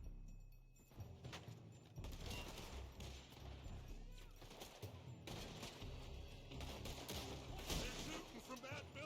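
A weak, cap-gun-like gunfire sound from a Wild West shooter game, with rapid crackling shots layered over background game noise and voices, fairly quiet throughout.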